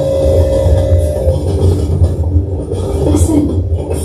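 A train rolling along a railroad as a stage sound effect, a steady loud rumble with a rhythmic clatter that carries on without a break.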